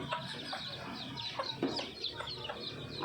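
Six-day-old baby chicks chirp and peep in a continuous cluster of short, high calls, with soft clucking from a hen among them, faint and close, with no talk.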